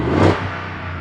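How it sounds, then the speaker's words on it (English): A 2023 Ford F-250 Tremor's naturally aspirated 7.3-liter V8 runs outdoors, giving a short, steady engine rumble with a brief swell in the middle. "take a listen to this V8 motor"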